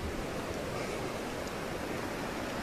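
A small mountain stream runs beside a campsite in the Mont Blanc area, giving a steady, soft rushing wash with no other sounds standing out.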